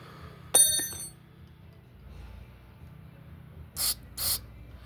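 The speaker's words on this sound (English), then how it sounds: "Your main jet's in here, so you wanna spray in there too." Two short, sharp bursts of aerosol cleaner hiss into the main jet of a Honda HS724 snowblower carburetor, preceded by a bright metallic clink, against a quiet background.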